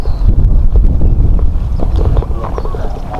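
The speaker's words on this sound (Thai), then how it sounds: "ทีแรกมาก็ว่าลมมันไม่แรงไปไปมาก็แรงเหมือนเดิมครับ" Strong wind buffets the microphone on a windy shore during a fishing trip, a loud low rumble with scattered thumps, and someone talks over it.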